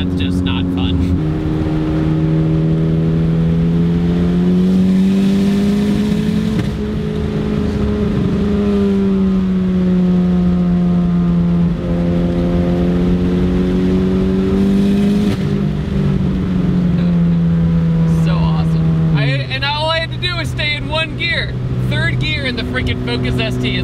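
A 400 hp Ford Focus ST engine drones loudly and continuously from inside the car as it drives through corners, its pitch rising and falling with the throttle, and someone talks over it throughout.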